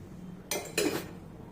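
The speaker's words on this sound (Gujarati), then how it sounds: "તો હું આ તવો મૂકીશ." An iron tava griddle set down on a kitchen stove: two close metallic clanks a moment apart, the second heavier with a brief ringing tail, alone in a quiet room.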